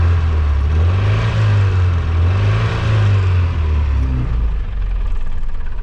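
A GAZ-21 Volga car engine idling from cold, with a generator fault noted, runs as a loud, close, steady low rumble with slight surging in its pulse.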